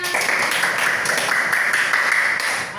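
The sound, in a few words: students applauding in class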